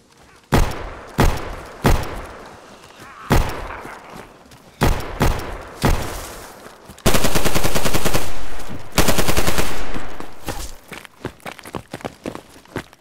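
Bursts of gunfire in the DayZ survival game: several sharp single shots early on, then two long sustained automatic volleys, followed by scattered lighter clicks and shots, loud and close.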